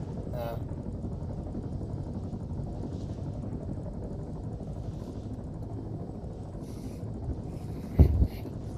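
A steady helicopter rotor drone hums continuously at moderate distance in the video game Arma 3, with a short louder thump and rattle near the end.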